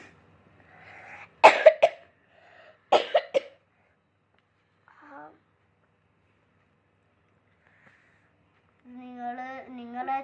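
Two loud, close bursts of coughing with some throat clearing, separated by pauses, then a person starts talking near the end.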